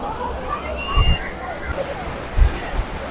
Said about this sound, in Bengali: জল এসে ধুয়ে দিয়ে গেল, নোনা জল না